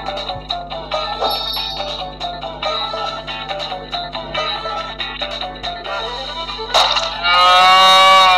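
Cartoonish cow moos repeat through the mobile game Run Cow Run, loud and close over steady game music, ending in a brighter rising tone.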